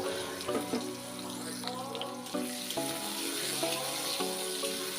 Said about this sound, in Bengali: সর্ষের তেল দিয়ে পেঁয়াজটা কিছুটা ভেজে নেব